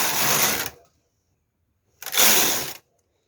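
A knitting machine carriage is pushed across the needle bed in two rolling, clattering passes, each under a second, separated by a silent pause, loud and close.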